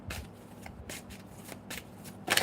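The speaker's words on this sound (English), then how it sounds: "Let me shuffle them" A deck of spiritual message cards is shuffled by hand: several quick, papery riffling bursts in an uneven rhythm, close and soft, ending in a brighter flurry.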